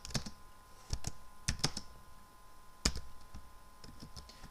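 Keys on a computer keyboard are typed in short irregular bursts, crisp clicks with pauses between them, close and fairly quiet, with no talking.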